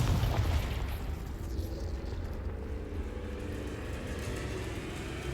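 A Confringo spell explosion in Hogwarts Legacy opens with a loud booming burst, then settles into a sustained low rumbling roar that fills the rest of the moment without talk.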